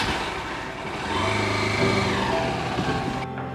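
A car engine runs steadily and lifts into a revving pull-away, fairly close and loud, with no talk, then cuts off abruptly near the end.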